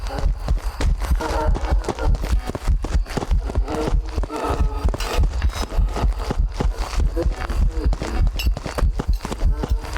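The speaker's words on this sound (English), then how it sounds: "Listen to the footstep speed." Ghost footsteps in a ghost-hunting video game: a loud, steady stream of rapid thudding steps, densely packed throughout with no pauses, close and alone.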